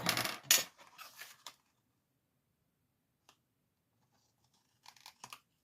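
Paper being cut for a handmade scrapbooking box: a few close crisp snips and rustles in a quick burst, then near silence, one tiny click, and another short pair of cutting sounds at the end.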